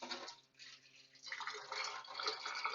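Water pours out of an AC cooker pot in a minivan kitchen, a close splashing trickle that pauses briefly and then runs again more strongly, with no talking over it.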